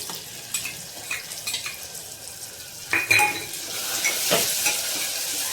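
Tomato and tomato paste with salt sizzle softly in a pan while a utensil scrapes and stirs in short, irregular strokes, including a few sharper metallic scrapes near the end.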